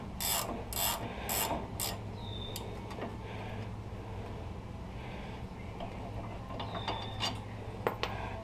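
A ratchet wrench on 18mm bolts of a 1999–2007 GM truck front wheel bearing, with quick clicking ratchet bursts near the start followed by scattered metallic clicks and scraping against a steady low hum.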